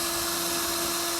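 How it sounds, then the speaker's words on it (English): A power drill whines steadily while boring two small holes into an above-ground pool, a continuous high buzzing motor tone held for just over a second with no talk. "We're not supposed to use drills around this thing."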